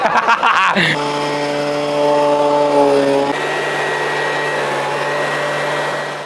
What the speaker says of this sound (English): using a petrol leaf blower to dry an EV?